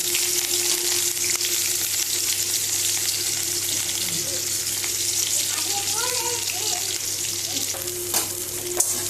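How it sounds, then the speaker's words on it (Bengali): Garlic, onion and green chilli fry in a pan, making a continuous close sizzle under a low steady hum, with a few faint voices in the background. "রসুন পেঁয়াজ আর কাঁচা লঙ্কা আমি প্রথমে এটা ভেজে নেব"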